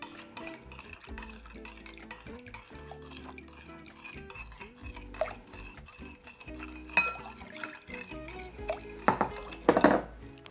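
A spoon stirs shrimp cocktail sauce and orange juice together in a bowl, a steady soft scraping with light clinks against the dish, growing louder and busier toward the end.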